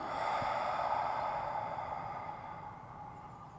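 One long, slow exhalation pushed out audibly during a breathing exercise, a soft breathy rush close to the microphone that gradually fades.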